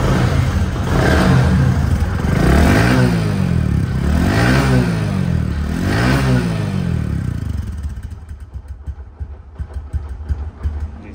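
A used motorcycle engine with about 12,048 km on it revs loudly three or four times in a steady rhythm, rising and falling close by, then settles down toward a quieter idle near the end.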